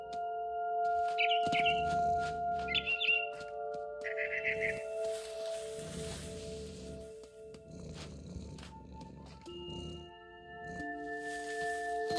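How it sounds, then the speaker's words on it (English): In the video game What Remains of Edith Finch, a barn swallow chirps in short, bright bursts over a sustained musical score, with a cat's low purring and rustling between the calls, moderately close. "Then I heard chirping outside my window. It was a barn swallow going back to her nest."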